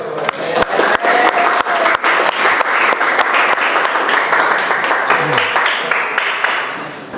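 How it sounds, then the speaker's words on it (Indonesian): Classmates applaud after a student presentation in an automotive vocational class, loud close-up clapping with a few sharp individual claps standing out, tapering off toward the end. "Tepuk tangan untuk temannya."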